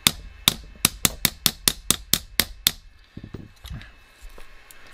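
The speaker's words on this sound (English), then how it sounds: "When in doubt, hammer it in place." A hammer strikes a metal quad frame about a dozen times in a steady, brisk rhythm, sharp ringing blows close up, followed by a few softer clanks and knocks.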